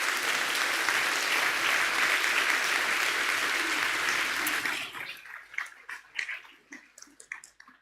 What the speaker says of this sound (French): je crois qu'on peut aussi vous applaudir.